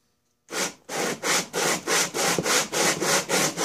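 Polaris cylinder head rubbed flat on sandpaper, a steady series of about ten loud, even back-and-forth scraping strokes with a rhythmic swish close up, no talking.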